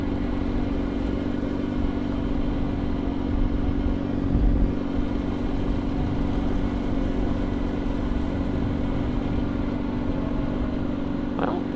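A motorcycle engine idling and rumbling steadily while ridden through snow with clutch work, a constant close drone without breaks.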